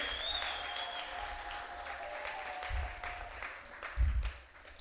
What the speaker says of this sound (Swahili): Mpe Bwana makofi ya shangwe na vigelegele.